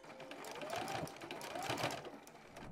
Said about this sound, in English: I'm going to start my top stitching on the back side of the bag near the side seam